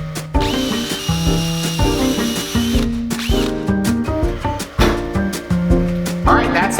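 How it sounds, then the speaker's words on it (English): A power drill whirs in repeated bursts, its motor pitch rising and falling as it bites into wood while drilling holes, loud and close with short pauses between runs. "let's go drill these holes"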